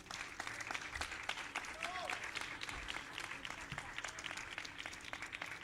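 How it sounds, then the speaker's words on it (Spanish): Steady audience applause at a Buenos Aires city mobility conference, greeting a woman panelist as she comes up to join a panel on inclusive mobility. Dense, continuous clapping from a crowd fills the whole stretch at an even level. "le damos el aplauso a Florencia"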